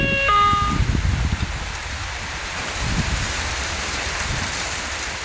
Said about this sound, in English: I have never seen rain like this in my life.